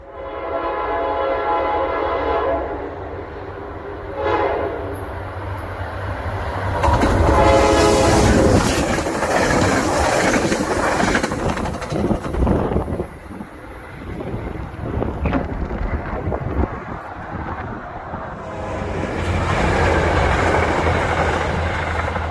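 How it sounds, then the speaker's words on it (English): A Metro-North Railroad train passes the Appalachian Trail station, sounding long blaring horn blasts and then rushing by with loud rumbling and rhythmic clickety-clack of wheels, wind buffeting the microphone, before fading into a final horn. "Metro-North Railroad at the Appalachian Trail train station"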